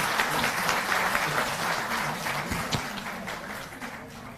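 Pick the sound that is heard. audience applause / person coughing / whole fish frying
audience applause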